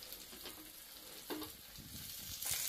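Fish sizzles as it fries in a pan, a faint, close crackle with a few louder spits and stirring bursts over about three seconds, with no one talking.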